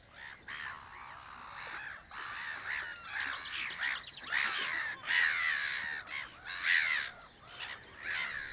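Black-headed gulls calling around a pond: repeated harsh, raucous squawks in quick bursts, fairly near and moderately loud, with several birds overlapping and no speech.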